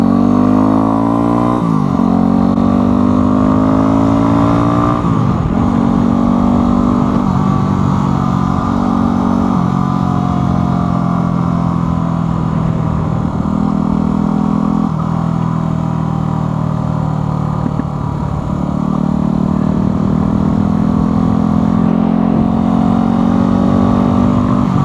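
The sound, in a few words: fuel-injected motorcycle engine starting and running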